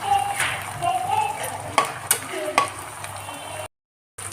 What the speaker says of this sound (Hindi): इन्हें भी हल्का हल्का भून लेंगे।